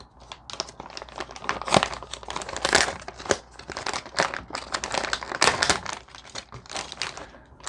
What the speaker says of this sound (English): Let's get this bag opened up. 30-year-old bag.